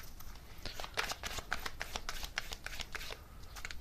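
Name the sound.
shuffling a deck of tarot cards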